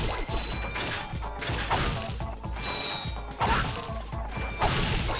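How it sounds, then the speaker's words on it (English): Wrenches thrown in Ratchet & Clank smash into objects, giving repeated crashing and whacking impacts with clattering debris at a steady, busy pace and moderate loudness. "Throwing wrenches all day."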